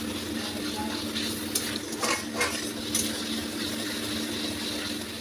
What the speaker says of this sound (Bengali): মশলাটা একটু সামান্য ভেজে নেবো আগে।